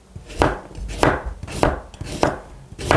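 Knife chopping carrots on a cutting board, five heavy evenly spaced thunks about half a second apart, close and loud with no talking.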